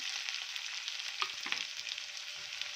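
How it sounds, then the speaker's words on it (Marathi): Crushed garlic and chopped onion sautéing in hot oil for a traditional Maharashtrian onion dish, a steady close sizzle with occasional stirring scrapes, no voices. "आता हे मिनिटभर असं आपण तेलावर परतून घेऊया"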